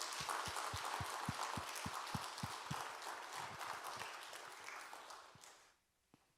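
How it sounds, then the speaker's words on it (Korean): Church congregation applauding for a missionary to India, a dense wash of many hands clapping steadily with some distinct rhythmic claps, fading out near the end. "우리 저 인도 선교사님 박수 한번 해봅시다"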